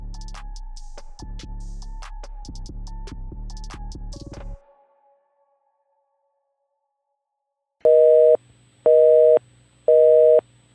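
Three loud, evenly spaced telephone intercept tones ring out clearly and alone, the standard signal that comes before a number-not-in-service recording, following a stretch of music and then silence.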